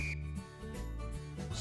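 A rugby referee's whistle sounds a penalty signal: several loud, close whistle blasts of moderate length in quick succession, with no voices.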